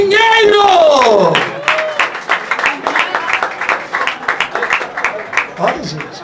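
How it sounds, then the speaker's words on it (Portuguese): Studio audience applause on a Brazilian TV variety show, a loud burst of clapping that rises under a host's shouted introduction and carries on in uneven waves beneath continued talk. "Vou aplaudir mais."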